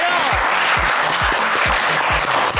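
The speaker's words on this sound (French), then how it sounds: "Et je voudrais qu'on applaudisse encore plus fort les deux pour qui l'aventure s'arrête" Loud studio audience applause on a television game show, a dense wash of clapping with a thumping beat of music pulses underneath, continuous and close.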